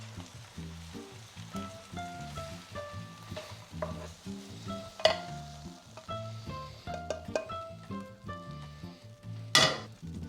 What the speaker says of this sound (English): I'm going to stir-fry these just until they are tender